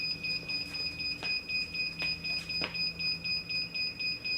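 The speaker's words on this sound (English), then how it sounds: "you notice the flashing and the beep indicating that it's opening or closing" A Wi-Fi smart garage door controller gives a steady two-tone electronic warning beep that repeats at a regular pace as the door closes, moderately loud, over a quiet background with a few faint clicks.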